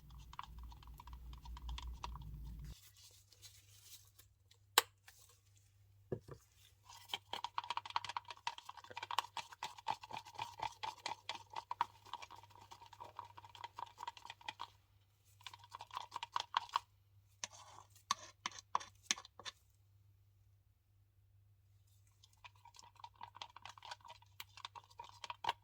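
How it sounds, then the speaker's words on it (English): White pigment is stirred into about 60 ml of resin in a cup, a quiet, irregular clicking and tapping of the stirrer against the cup that pauses now and then, close up and soft. "So I'm just mixing it into the resin now."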